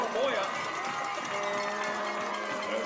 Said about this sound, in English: Touchdown, Ridgeview. Listen to this big crowd.